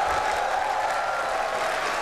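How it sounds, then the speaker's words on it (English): Audience applause at Apple's WWDC keynote, a steady dense wash of clapping and crowd noise held at an even level throughout, with no talk over it. "Now, I'm not sure why the crowd's going crazy on this."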